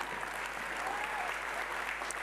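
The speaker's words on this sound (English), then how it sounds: "applause, please, for all those people" Steady audience applause at a peace talks event honoring volunteers, a dense even wash of clapping sustained throughout, moderately distant and without pauses.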